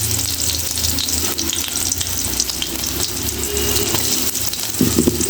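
Chopped garlic and onion fry in a hot pan with a steady, close hiss and crackle that fills the whole clip, joined near the end by a brief scrape or stir.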